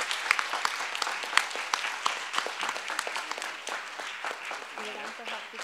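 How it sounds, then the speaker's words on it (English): A debate audience applauds with scattered, irregular claps that slowly thin out, while people talk over the clapping. "May we give this young gentleman a big round of applause again"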